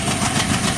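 A freight train rumbles steadily through dense forest, a loud continuous rolling roar with a faint rhythmic clatter of wheels and no voices.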